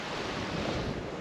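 Steady, roaring wind buffets the microphone on a stormy Shetland beach. The gusting noise is loud and unbroken for about a second.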